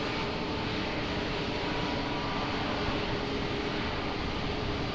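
An airplane at Lisbon Airport cleared for takeoff gives a steady, distant broadband engine roar that holds at an even level throughout, with no other sounds over it.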